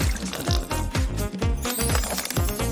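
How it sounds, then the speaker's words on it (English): Water poured onto a small bloom toy, a bright, continuous splashing pour with liquid trickling and dribbling, close and fairly loud throughout, with no talking. "Just add water for a special surprise."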